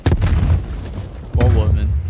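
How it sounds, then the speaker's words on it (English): A grenade detonates in a tactical shooter game as a heavy close boom, and a second deep blast follows about a second later, with speech-like voices mixed over the game sound. "Throwing grenade."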